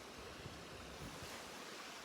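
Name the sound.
mountain stream flowing water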